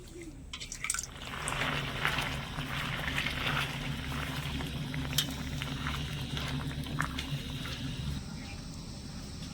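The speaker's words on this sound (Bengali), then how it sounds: "তরমুজের টুকরোগুলো চিনি রসের মধ্যে ভালো করে সেদ্ধ করে নেব" Watermelon pieces simmering in sugar syrup over medium-low heat: a steady soft bubbling with scattered drips and pops, close by and moderately quiet, with no talking.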